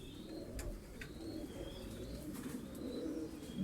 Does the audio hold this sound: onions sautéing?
no